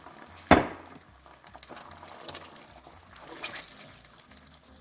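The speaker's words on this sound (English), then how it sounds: "at this point, we are going to add a marinara sauce" Marinara sauce poured into a hot pan of keto meatballs hits with one sharp splattering burst, then settles into a gurgling, bubbling liquid simmer, close and fairly loud with no talking.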